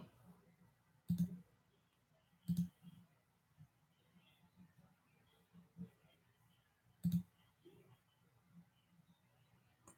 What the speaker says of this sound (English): Clicking around.